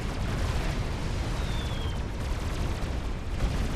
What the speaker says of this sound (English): You should hear the bomb drop.